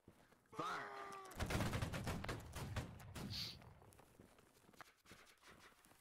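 Musket volley fire in Holdfast: Nations at War during a linebattle event, a loud ragged crash of many muskets going off nearly together, then crackling scattered shots and shuffling, with voices nearby around it.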